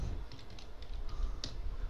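Quiet, irregular clicks of keys on a computer keyboard, a few taps spread out over a soft background hiss, with no one speaking.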